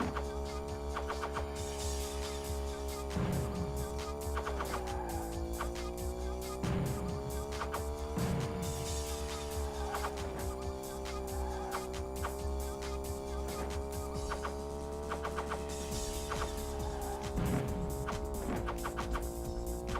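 The Gimp's car drives in the video game Wreckin Crew, its engine a steady buzzing drone that rises and falls in pitch with repeated short bursts, loud and continuous with no talk.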